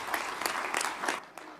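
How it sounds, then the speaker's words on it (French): Applause for Morocco breaks out from a gathered crowd, a dense, steady wash of clapping that holds for over a second and then thins to a few scattered claps. "Pouvons-nous applaudir le Maroc,"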